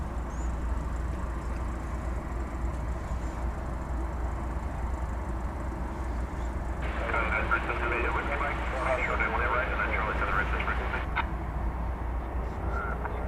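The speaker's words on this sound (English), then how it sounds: "We've got Fiji flight 891 to Nadi now taxiing for takeoff." A Fiji Airways Airbus A350-900 taxis for takeoff at DFW Airport at night, a low, distant jet rumble with a faint whine, mostly under ongoing talk.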